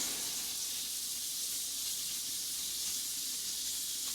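Asparagus cooking in a pan gives off a soft, steady sizzle and hiss, fairly quiet and close, continuous with no voices over it.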